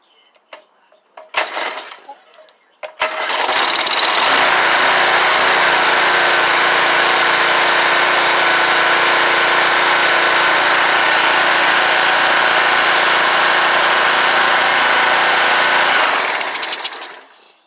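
A Troy-Bilt pressure washer engine with a prior fault catches after a few faint pulls and clicks, then runs loud and steady close by for about thirteen seconds before shutting down.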